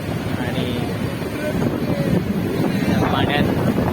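A rough, churning monsoon sea at Alibag roars under gusting wind and rain, a dense continuous wash of surf and wind buffeting close to the microphone.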